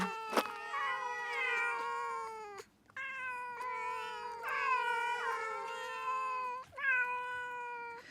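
Several cats meow in long, overlapping, wavering cries that rise and fall together, fairly quiet and continuous with only brief gaps, with no talking.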